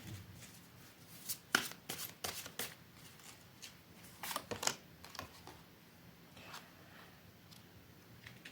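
Deck of tarot cards being shuffled up close: quiet, crisp riffling and flicking bursts in irregular clusters, with no talking.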